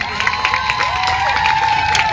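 A crowd at a live event in Odisha claps and cheers loudly for a guest, a continuous dense wash of applause and shouts with a sustained tone running underneath.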